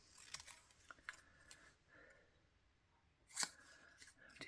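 Scissors cutting paper for a spring collage craft, a few quiet crisp snips and rustles spaced irregularly, close but faint, with one sharper snip near the end.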